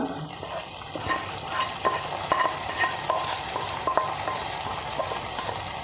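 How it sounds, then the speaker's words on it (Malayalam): Fried mustard seed tempering is tipped into an Angamaly-style mango curry after the heat is switched off, producing a steady, close sizzle with light stirring clinks and no speech. "നമ്മുടെ കടുക് വറുത്തത് നമുക്ക് ഇതിലേക്ക് ഇട്ട് കൊടുക്കാം കറിയിലേക്ക് ഇട്ട് കൊടുക്കാം"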